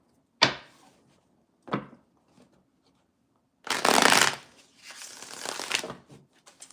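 Two sharp tarot card taps followed by a longer riffle shuffle and a softer second riffle, close up with no talking.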